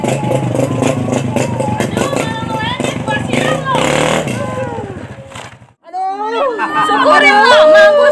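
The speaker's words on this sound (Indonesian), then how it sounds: "Motor siapa sih berisik banget?" A loud, rough motorcycle with a noisy aftermarket exhaust drones steadily through the first half, fading out around the middle before another engine and voices return, with people talking throughout.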